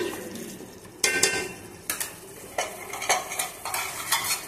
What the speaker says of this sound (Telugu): ఉప్పు వేసుకొని బాగా కలపాలి.